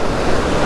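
Ocean surf breaks close by on a striped bass fishing shore, a loud, steady wash of churning water with wind buffeting the microphone, and no voices.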